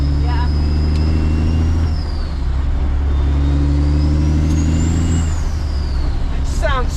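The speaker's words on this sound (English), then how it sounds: "It sounds so deep to those Dynaflex pipes." Dump truck engine rumbling deep and steady through Dynaflex exhaust pipes, loud and continuous from inside the cab, with gear-shift pitch changes and voices talking over it.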